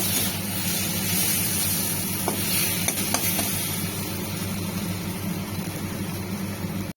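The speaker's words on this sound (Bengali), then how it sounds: "মশলা মতো আলুটা দিয়ে আমি একটু কষিয়ে নেব" Boiled potatoes sauté in spices in a hot pan, a loud continuous sizzle with occasional scraping stir sounds, close up and steady with no talking.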